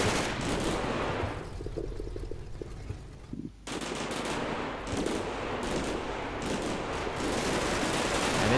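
Dense machine-gun and rifle fire in the Combat Mission: Battle for Normandy war game, loud sustained bursts crackling almost without pause, with a brief lull near the middle before the firing resumes.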